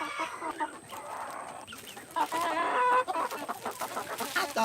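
Backyard chickens clucking nearby, a scattered series of short clucks and squawks over light background noise, busier toward the end.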